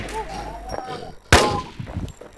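Gunfire in the online shooter game Infestation, a sharp loud blast near the middle among quieter clanks and muffled game noise, with no voices.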